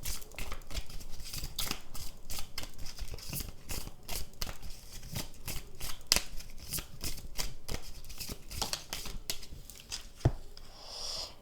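Oracle cards shuffled and handled close by, a steady run of papery riffling and flicking slaps that lasts throughout with no talking.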